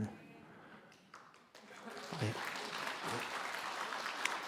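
A church congregation breaks into applause during a Sunday service, a broad wash of clapping that swells and holds steady, with voices mixed in around it.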